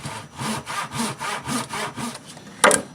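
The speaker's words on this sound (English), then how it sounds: "you can do it with just a standard hand saw like this" A hand saw rasps through wood in steady back-and-forth strokes, about nine even passes, followed by a brief clatter at the end.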